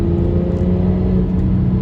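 A 2016 BMW 340i with the B58 engine pulls hard in sport mode, a loud, steady engine drone and whir heard up close with no voices.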